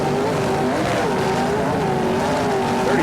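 Race car at full throttle during the 2006 Daytona 24-hour race, a loud, steady engine roar with a sustained high whine, close and continuous throughout with no pauses.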